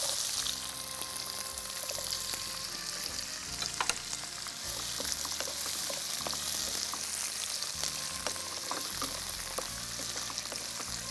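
Sliced cucumber sautéing in a hot pan gives a steady, close sizzle and crackle with occasional stirring scrapes, continuous for the whole stretch with no talking.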